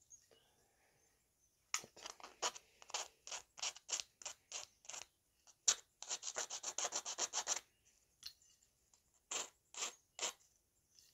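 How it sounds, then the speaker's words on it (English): A hand file rasps over sharp metal edges on a homemade kids' snowmobile part, a run of quick dry strokes in irregular bursts, then a fast dense stretch, close and fairly quiet with no talking. "Might need a more aggressive file."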